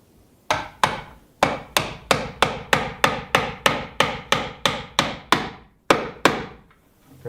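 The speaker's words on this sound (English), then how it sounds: "I'm going to use a circular box here against the wall, and I want to hammer this into place." Steady hammer blows about twice a second, sharp and close, driving a circular electrical box into place against a wall, with a short pause early on and another near the end.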